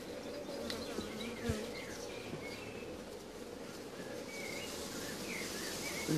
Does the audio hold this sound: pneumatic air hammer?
no